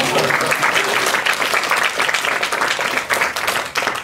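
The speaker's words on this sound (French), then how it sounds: "Vous pouvez applaudir." An audience at a lecture breaks into applause, a dense, sustained wash of many hands clapping, loud and close, filling the room for several seconds without speech over it.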